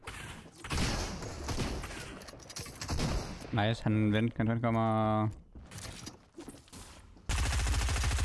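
Gunfire in the Fortnite video game: bursts of shots crackle under lively Danish chatter between players, with a louder sustained stretch near the end.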